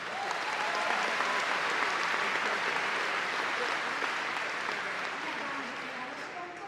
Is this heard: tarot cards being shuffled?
no